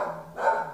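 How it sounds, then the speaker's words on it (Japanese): A dog barking in a short, loud burst, heard alone without any voices. "犬？"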